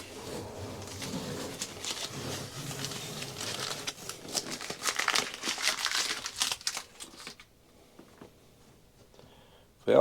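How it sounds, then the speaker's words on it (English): Painter's tape peels off the edges of a bathtub with crackly, crinkling rips and tears in quick irregular bursts, close by, before falling quiet near the end. "So I'm going to take the tape off and see how clean the edges came out"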